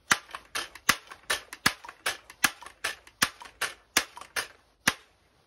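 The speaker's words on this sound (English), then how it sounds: "Loading a pellet can be a little bit difficult, but pumping is super easy." A .177 air rifle being loaded with a pellet and pumped, heard as a rapid, regular series of about a dozen sharp mechanical clacks, close and loud, with no talking.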